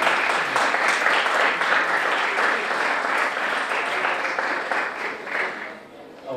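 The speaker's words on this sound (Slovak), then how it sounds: "potom nenápadne vyvolať vás potlesku" Studio audience at a Slovak talk show breaks into sustained applause, a dense wash of many hands clapping steadily throughout, fading slightly near the end.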